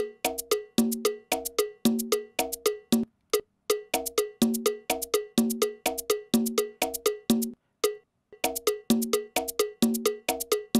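A sonidero-style cumbia percussion loop is led by a bright cowbell striking a quick, steady syncopated pattern with short pauses between bars. It sounds close and dry, with no voices.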